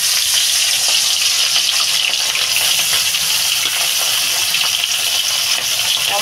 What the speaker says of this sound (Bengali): অল্প অল্প করে বন্ধুরা ভেজে নেবো, তাহলে মাছগুলো ভাঙবে না।